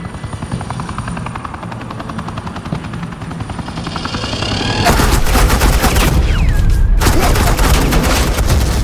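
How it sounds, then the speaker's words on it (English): Suppressing gunfire in the Batman: The Enemy Within game, a dense sustained burst of rapid shots and booms that starts abruptly midway over a constant droning helicopter. "suppressing fire."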